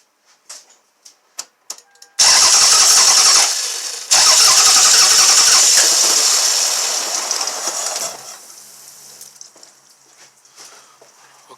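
A Toyota/Lexus engine with a P1300 ignition fault is started. A few clicks come first, then a loud roaring crank-and-catch that breaks off briefly and resumes. After several seconds it settles to a quieter, uneven idle.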